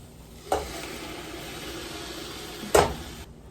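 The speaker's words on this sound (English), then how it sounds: "And put our pasta in." Pasta dropped into a pan of hot oil and red pepper, giving a steady sizzle with two sharper bursts as it hits and is stirred, close and moderately loud.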